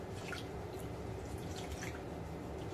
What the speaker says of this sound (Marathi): बघू शकता अशी चोळून चोळून धुवून घ्यायची आहे